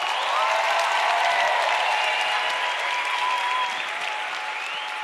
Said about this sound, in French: vous pouvez l'applaudir bien fort, s'il vous plaît